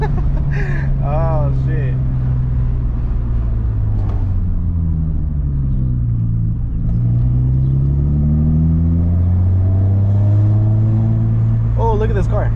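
The engine of a Hyundai Veloster car rumbles steadily, its revs rising and falling in smooth sweeps over several seconds. It is loud and continuous, with brief voices near the start and end.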